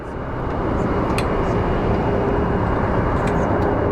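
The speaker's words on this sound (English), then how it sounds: "So here we have a United departing." A United airliner departs at Sky Harbor International Airport, its jet engines building into a loud, steady broadband roar that holds throughout from a distance.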